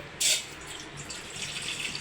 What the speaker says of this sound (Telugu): వాటర్ పోసుకొని మరగనివ్వాలి